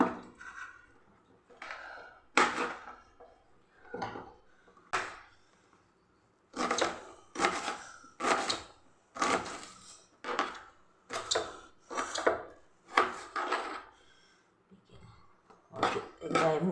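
A knife chops ridge gourd on a board for a gravy, a steady run of sharp knocks in irregular bursts, close and clear, with brief pauses between groups of cuts.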